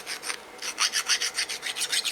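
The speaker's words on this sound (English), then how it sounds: "You can do it the old-fashioned way with a file if you want." A hand file rasps back and forth along the edge of a metal bracket, a steady run of about a dozen close, scratchy strokes in quick even rhythm, with no voices.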